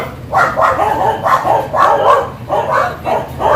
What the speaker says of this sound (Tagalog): ingay ng mga aso guys, maingay